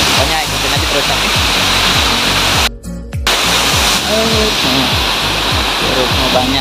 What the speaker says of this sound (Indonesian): Kita mau ke air terjun satu lagi nih